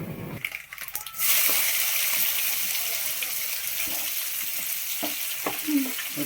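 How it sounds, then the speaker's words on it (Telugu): Tempering spices (popu) sizzle hard in hot oil for a simple curd chutney (perugu chutney), a steady close crackling hiss that swells after a soft start, with a few pops and light clinks throughout. "పోపులు బాగా వేపాలన్నమాట"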